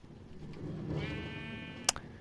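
Sheep on a farm in Minecraft give a single drawn-out bleat, near and fairly clear, with a short click near the end.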